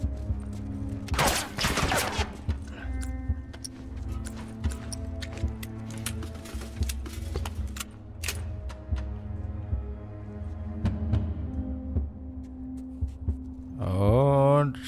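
Bursts of rapid gunfire in The Last of Us crack through a steady game soundtrack hum, with a loud volley early on and scattered single shots after, then a rising electronic whine at the end.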